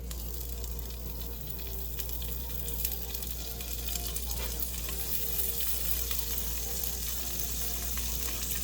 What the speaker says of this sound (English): So here we're gonna add the octopus to the pan. Just listen to that sizzle.